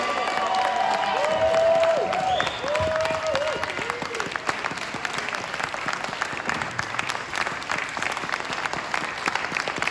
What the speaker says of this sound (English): I would like you to give not only a round of applause, but I would like to give a standing ovation to all of the Alien Rangers